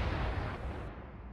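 Naval ship guns fire in the War on the Sea video game at the Sunda Strait battle: a single heavy, booming blast that rolls off into a long low rumble.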